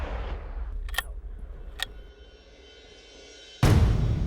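Two sharp gunshots on a hunt crack out with a pause between them, followed later by a louder third burst, over rustling outdoor background.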